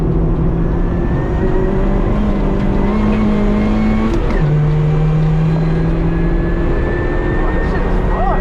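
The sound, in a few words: supercharged 1990 Honda Civic EF accelerating on track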